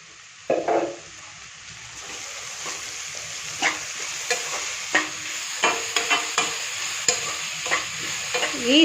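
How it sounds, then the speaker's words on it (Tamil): Vegetables being sautéed and stirred in a hot pan for veg fried rice: a steady sizzle with repeated close scraping and clacking strokes of the spatula, no voices. "அதனால் இந்த ஈரம் போகிற அளவுக்கு நம்ம வதக்கணும்"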